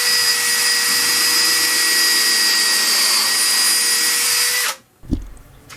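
Power drill driving screws into the cross members of a DIY heated 3D printer enclosure, one long loud whirring run that cuts off abruptly, followed by a brief clunk.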